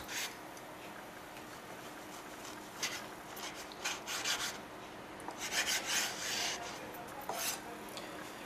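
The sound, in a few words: knife slicing lamb testicles into strips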